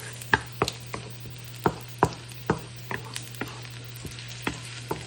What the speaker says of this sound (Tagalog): Gisa-gisa lang tayo hanggang mag-brown.